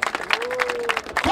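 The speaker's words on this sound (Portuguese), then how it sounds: "Palmas nesse round aí, família." Audience at a rap battle in Barueri, São Paulo claps and cheers in a short burst of applause, with a voice calling out over the crowd.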